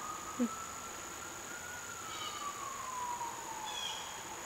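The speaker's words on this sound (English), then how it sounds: "I heard siren." A faint, distant siren wails in a slow descending tone over steady background hiss at an abandoned country store, with no talking.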